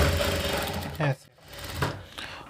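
Sewing machine stitching blouse fabric along the edge in a short close whirring run, broken by a brief pause and a clunk, then resuming, with a voice talking over it.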